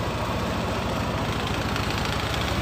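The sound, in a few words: Yamaha NMax scooter engine running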